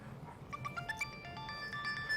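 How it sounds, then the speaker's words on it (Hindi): Phone ringtone playing a short electronic melody of bright tonal beeps, moderately faint in an indoor scene, repeating its phrase over a low background. "और ये किसका फोन आ गया यार?"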